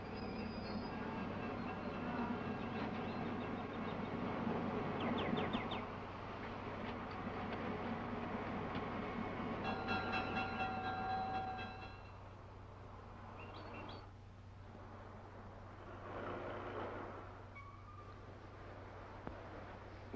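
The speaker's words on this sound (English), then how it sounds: "Well, there's my train." A train rumbles at a station in a 1958 film, a steady low roar with squealing wheel tones and metallic screeches that fade as the noise thins out toward the end, with no talk.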